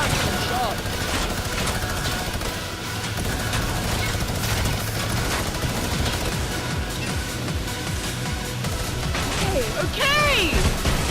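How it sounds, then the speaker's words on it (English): Gunfire strikes the player during a plane-and-infantry-rifle game mode in a video game, a steady barrage of shots and mechanical clatter running throughout at moderate loudness. "There you go, now I'm getting shot."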